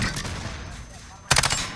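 Gunfire in the Call of Duty video game, a sharp burst of several rapid close shots that bursts in after a stretch of steady background noise.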